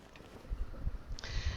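A faint, brief cat-like cry from a newborn sabre cat creature in Ark: Survival Evolved, heard over a low rumbling game background.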